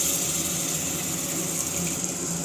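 Soaked tamarind water pours into a pan of fish curry as a steady, continuous liquid rush that holds at an even level throughout.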